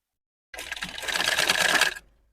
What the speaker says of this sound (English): So as I sew, I pleat.